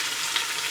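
Hot oil spitting and sizzling in a pan while keto chili cooks, a brief, steady hiss of frying with a small pop partway through, close and alone.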